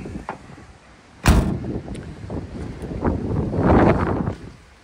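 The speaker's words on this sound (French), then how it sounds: "encore un peu de vent, vous reprendrez encore un peu de vent" Gusty wind buffets the microphone in rumbling waves beside a 1969 VW Combi T2a Microbus, with a sharp thump near the start; no voices.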